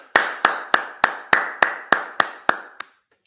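Congregation clapping at a Sabbath service, ten sharp, evenly spaced claps in unison at a steady beat, each ringing briefly before the next, ending after about three seconds.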